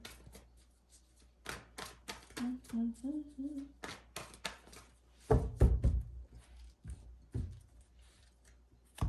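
A deck of tarot cards being shuffled quickly: a string of crisp, close taps and clacks in uneven bursts, a thicker riffle near the middle, with a short stretch of voice early on.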